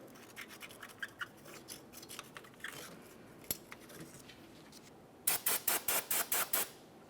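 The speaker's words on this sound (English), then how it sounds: "You can either scrape it using a flat blade screwdriver or even some sandpaper, whatever works best for you." Corrosion is scraped off a 2006-2011 Honda Civic rear wheel hub with a flat-blade screwdriver or sandpaper, light scratchy strokes at first and then a loud run of about eight quick, rhythmic scrapes.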